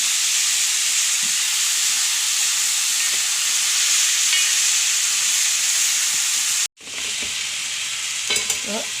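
Green gram and plantain upperi stir-fried in a pan, a continuous dry sizzle with scraping stirs, briefly cut off near the end before resuming with spatula clatter.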